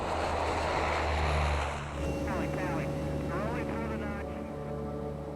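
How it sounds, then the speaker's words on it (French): An OV-10 propeller plane drones steadily at low altitude, a dense engine roar with tonal hum that shifts slightly partway through, continuous and fairly loud. "L'avion de contrôle patrouille le ciel à la recherche de Clark."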